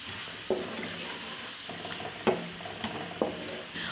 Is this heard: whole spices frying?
yes